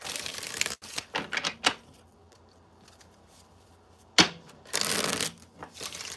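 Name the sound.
tarot cards being shuffled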